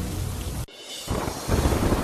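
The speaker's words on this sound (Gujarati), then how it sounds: "દ્વારકાના ખંભાળિયામાં ધોધમાર વરસાદ વરસ્યો" Heavy downpour lashes Khambhalia in Dwarka during Cyclone Biparjoy, a loud, dense roar of rain that cuts out abruptly for a moment before surging back just as strong.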